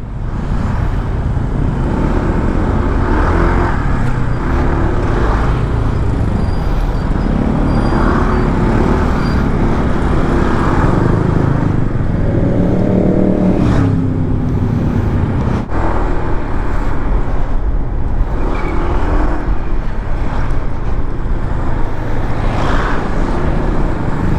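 Congested road traffic in a Philippine street, with a steady, loud roar of car and bus engines idling and creeping, occasional horn-like tones and passing vehicles throughout.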